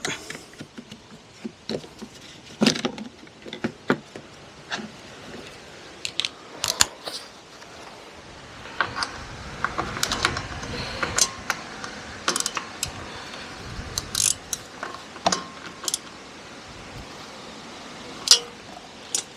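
A socket wrench with an extension ratchets on 13mm bolts of a Kawasaki ZZR1100 motorcycle, quick clicking runs and small metallic taps up close, spread unevenly with pauses.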